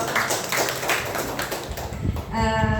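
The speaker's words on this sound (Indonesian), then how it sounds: "Tepuk tangan dong" Clapping from a small group of teachers for a presenter at an education training session, a dense patter of hand claps that fades slightly before a tonal hum enters near the end.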